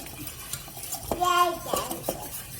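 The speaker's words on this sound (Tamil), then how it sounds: "கைவிடாமல் இப்படி கிண்டுங்க" A spoon scrapes and clinks against a pan while stirring ragi porridge for baby food, a few quick, close strokes with light metallic rings over quiet background noise.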